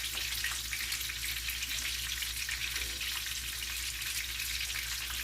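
Food fries in hot oil, giving a steady, dense crackling sizzle that stays even throughout with no talking.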